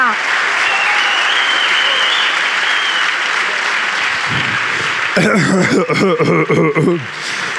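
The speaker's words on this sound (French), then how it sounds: "Je crois qu'on peut encore l'applaudir." An audience at a security directors' gala applauds steadily for several seconds, a dense wash of clapping, before it gives way to someone speaking close over the fading claps.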